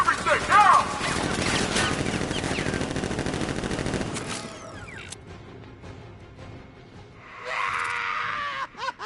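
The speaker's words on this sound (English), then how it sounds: "Activate sentry guns on my mark" Sentry guns fire in the video game Batman Arkham Knight: a loud sustained burst of rapid mechanical gunfire for about four seconds, then quieter clanks and effects, with voices and a scream mixed in.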